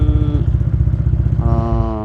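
Motorcycle with a replaced aftermarket exhaust idling close and loud in a rapid, lumpy thumping beat, briefly blipping to a higher-pitched rev toward the end.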